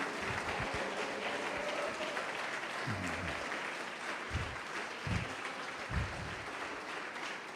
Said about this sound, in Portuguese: Pode aplaudi-lo, pode glorificá-lo.